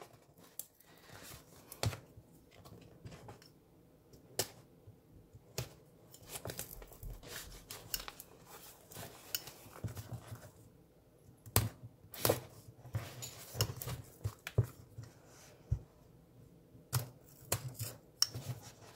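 Small scissors snip through the binding thread of a stitched book, giving sharp, faint clicks and light crinkling scattered irregularly against a quiet background.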